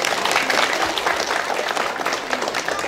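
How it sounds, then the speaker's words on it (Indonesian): A crowd at a village inauguration ceremony in West Java claps steadily, a dense, continuous wash of applause with no pauses. "tepuk tangan sekali lagi."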